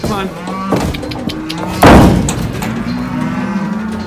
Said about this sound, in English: Ready to move some cows?